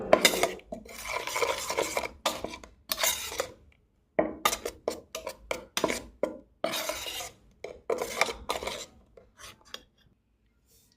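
Egg batter seasoned with salt and dried chilli powder being mixed in a bowl for steamed egg bhapa, giving repeated bursts of scraping and clinking from the utensil against the bowl, with a pause midway and silence at the end.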